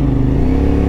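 CFMOTO 450SR inline two-cylinder motorcycle engine pulling under acceleration, a loud, steady close-up drone with a strong low hum and faint rising tone, no voices over it.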